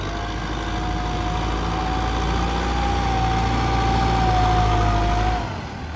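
A Kubota M6240SUH tractor engine drones loud and steady while pushing a heavy pile of sand mixed with clay, a constant low rumble with a sustained whine, easing off slightly at the end.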